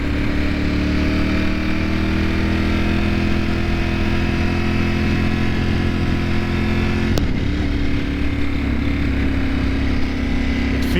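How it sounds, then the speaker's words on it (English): Ducati Panigale motorcycle engine running with the stock exhaust, a loud steady idle rumble throughout with a brief sharp click partway through, alone without talk. "this is the stock exhaust. I haven't done anything to it yet"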